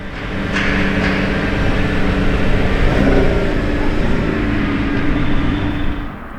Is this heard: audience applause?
no